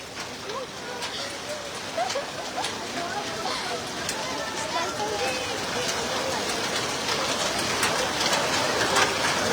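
Hail and rain fall in a storm over Dhaka, a dense, continuous patter that builds slightly, with a voice talking over it.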